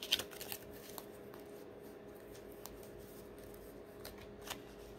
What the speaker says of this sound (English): Why is all the cards flipping over like this?